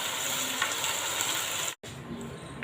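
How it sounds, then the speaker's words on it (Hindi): Chunks of taro root (arvi) fry steadily in hot oil, giving a continuous loud sizzle and crackle that cuts out for a moment near the end and then resumes. No one speaks. "तीन से 4 मिनट के लिए मैंने अरवी को इस तरह फ्राई करना है"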